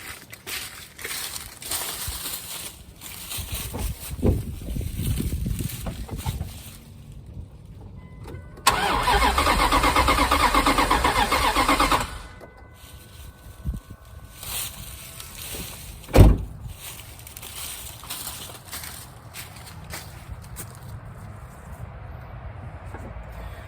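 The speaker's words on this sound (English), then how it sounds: "you'll be able to see or hear at least the truck turning over" A 2003 Dodge Durango that has been running rough cranks over for about three seconds in a loud, churning burst, then falls back to quieter mechanical noise with a single sharp knock a few seconds later; nobody speaks.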